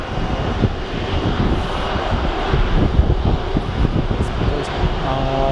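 A fixed-wing aircraft idles at an airport during the arrival of Türkiye's president Recep Tayyip Erdoğan, a steady loud engine roar with wind buffeting the microphone, continuous throughout.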